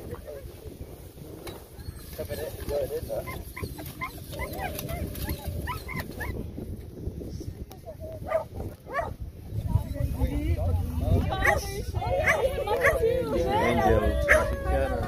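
Dogs bark and yip repeatedly at an outdoor Father's Day gathering in Belmont Shore, Long Beach, California, with some whimpering, loud and close, mixed with people talking.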